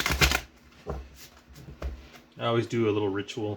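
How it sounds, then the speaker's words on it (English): Crow Tarot deck cards being shuffled by hand, a few brisk riffling bursts at the start before a person talks over the last part. "I'm just going to shuffle up the cards a little bit"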